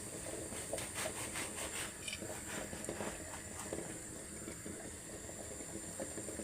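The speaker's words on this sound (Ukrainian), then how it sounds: "На кастрюльку, так кипить вода." Continuous bubbling and hissing of water at a rolling boil in a pot, steady and close, with small pops and crackles throughout.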